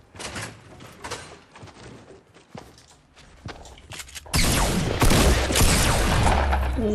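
Gunfire in Fortnite Battle Royale on PS4: scattered clicks and footstep-like thuds give way to a loud, dense burst of close shooting in the second half, with no talk.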